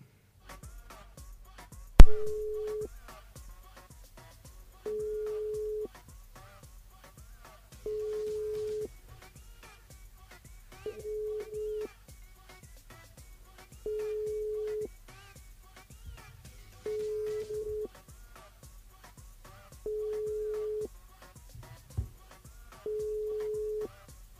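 A phone line rings with a steady electronic tone that repeats in regular bursts every few seconds, about eight times, over faint background noise.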